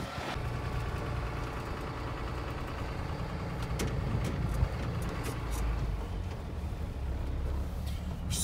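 Tow truck engine drones from inside the cab during a ride, a steady mid-pitched idle-like hum with light knocking and vibration, faint overall with a few brief clicks and no talking.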